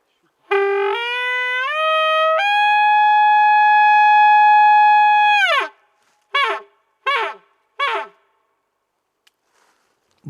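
A human voice imitates the rutting call of a young Manchurian wapiti (izyubr) while hunting: a long, high, rising bugle held for several seconds, then three short yelping notes, loud and close.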